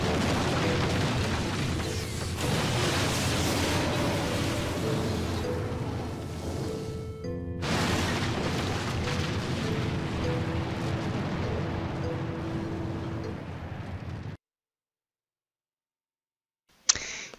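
A sustained, loud roaring rumble from an explosion in a Final Fantasy 8 cutscene, holding steady with a brief dip midway before cutting to silence and ending on a short burst.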